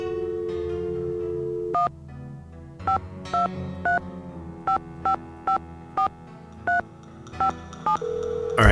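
A telephone keypad being dialed in the Nancy Drew video game The Final Scene, about a dozen distinct two-tone DTMF beeps in an irregular rhythm over a low, steady game background with no talking.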